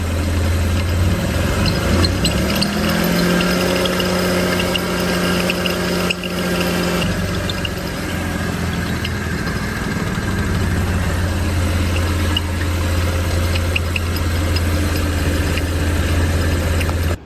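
An Audi B8 S4 runs after a driveshaft carrier repair, a steady low engine drone with a brief rising rev early on, then settling back to an even hum, close and continuous without speech.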